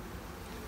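Honey bees swarm busily around an open beehive, giving a steady, dense, close hum that fills the whole short moment with no talk.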